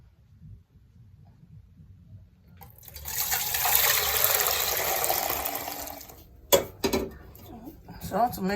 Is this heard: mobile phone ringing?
no